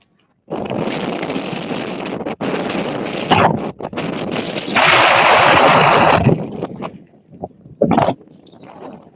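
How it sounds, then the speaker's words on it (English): Strong, gusty wind buffets the microphone in a severe storm, with loud, rough roaring blasts that surge and drop unevenly. Brief quiet gaps break up the gusts. "we're getting some pretty gusty winds here as well"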